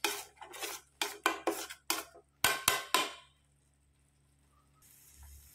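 A spoon scrapes and clacks against a cooking pan while a pinch of asafoetida powder is stirred in, about a dozen sharp metallic strokes in quick bursts over three seconds. A quiet low hum follows.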